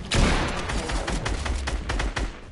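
Sustained rapid gunfire from the Bourlinger gun in a shooter video game, a dense, loud string of bursts firing nonstop for a couple of seconds.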